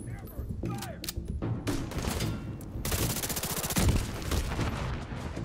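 The Chameleon exotic assault rifle firing in The Division 2: sustained rapid bursts of close, loud automatic gunfire, with a long heavy stream of shots in the second half and someone talking faintly between bursts.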